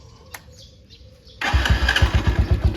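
2013 Keeway 200cc motorcycle starting: a brief quiet starter cranking, then the engine catches at once and settles into a loud, close, pulsing idle through an opened-up stock exhaust.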